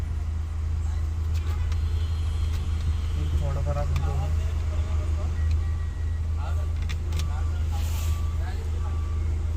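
A car's engine rumbles low and steady at a toll booth on a night trip to Lonavala, close and continuous beneath people talking inside the vehicle.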